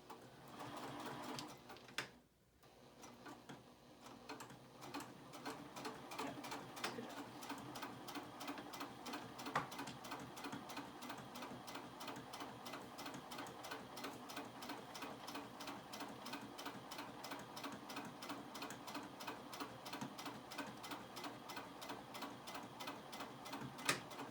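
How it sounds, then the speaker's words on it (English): A sewing machine stitches across the bottom of a fabric zipper pouch, a fast, steady mechanical rattle running close and continuous after a brief pause near the start, with no pause in the needle's rhythm. "I'm just going to sew all the way across the bottom."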